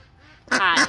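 A Cayuga duck gives a short, close double quack, loud and nasal, after a brief quiet moment.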